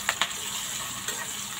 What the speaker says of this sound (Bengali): হালকাভাবে ভেজে নিচ্ছি। এখন রসুন আর পেঁয়াজ দিয়ে দিব।